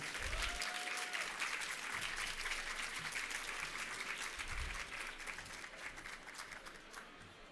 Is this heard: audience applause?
yes